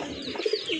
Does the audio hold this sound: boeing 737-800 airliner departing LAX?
no